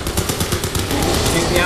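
Rapid automatic gunfire at the Alpha Ceph in the video game Crysis 3, a fast, evenly spaced burst of shots that gives way to a denser, continuous roar of combat noise near the end.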